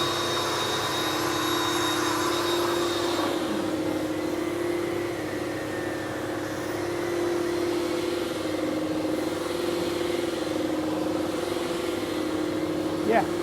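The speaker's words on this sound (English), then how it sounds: "that's the dry vac attachment" Ashbys Enforcer 400 psi carpet cleaner with tank heater, running with its dry vac attachment: a steady, loud motor drone with a whine that holds throughout, with a voice talking over it.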